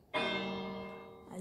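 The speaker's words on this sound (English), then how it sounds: "they have a bell here" A bell struck once in the Minecraft video game rings out clearly and decays slowly over about a second, with a second strike starting just as the first fades.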